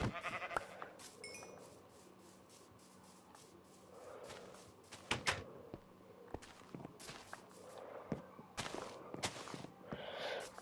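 Minecraft sheep in a village bleat in short, scattered calls among soft footstep crunches, fairly quiet, with an occasional gasp-like breath and no speech.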